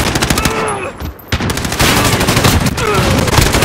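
Shotgun fire in Call of Duty: Modern Warfare multiplayer, loud close repeated blasts blending into continuous heavy gunfire with a brief lull partway through.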